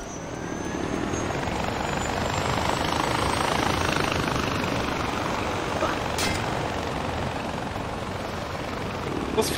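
Helicopter in Far Cry 4 with a loud, constant rotor and engine drone close by, steady through the whole stretch with a brief clank near the end.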